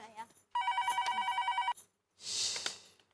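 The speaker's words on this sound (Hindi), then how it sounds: "अरे दया फोन ले जरा।" A telephone rings with a steady electronic trill for about a second, then stops; voices are heard before and after the ring.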